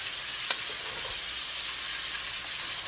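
Zucchini, squash, bacon and bell pepper sauté in a pot with a steady, soft sizzling hiss and a brief stirring scrape near the start, with no voices.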